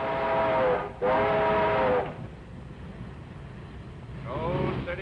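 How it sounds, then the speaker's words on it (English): A C&O streamliner train rolls into a station, sounding two long whistle blasts followed by a steady rumble and a third whistle swelling near the end. "Streamliner ought to be along right now."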